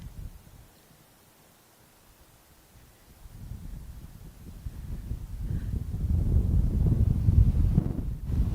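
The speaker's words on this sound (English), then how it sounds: "Wind starting to gust again." Wind gusts across an outdoor golf course at Pinehurst, a low rumbling buffet on the microphone that starts faint, then swells and grows louder over several seconds with a rustling roar.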